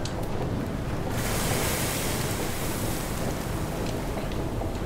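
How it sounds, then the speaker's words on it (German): Wind blowing across the open sea in the sailing game Far: Changing Tides, a loud, continuous roar of gusts and wave wash that swells slightly after the first second. "weil hier es windet"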